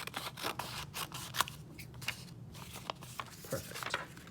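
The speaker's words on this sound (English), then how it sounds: "now I'm gonna trim the top off, and this should give me a square" Scissors snip through origami paper to trim it into a square, producing a close series of crisp, irregular cuts with soft paper rustling between them.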